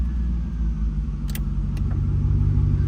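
Heavy, low idle rumble from a 2002 Chevrolet Camaro SS 35th Anniversary Edition 5.7L 345hp V8 with its exhaust cutout open, loud and steady up close, with a few faint clicks on top.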